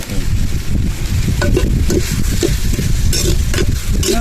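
Dosa batter spread on a hot pan gives a loud, continuous sizzle close up, with a low rumbling hiss and faint scraping throughout.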